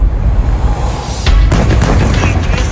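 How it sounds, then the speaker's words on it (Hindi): A loud missile explosion in a city, a heavy rumbling boom that swells and rolls on, followed by crackling bursts and debris-like noise lasting several seconds, close and overpowering. "धमाके की इस आवाज को सुनिए।"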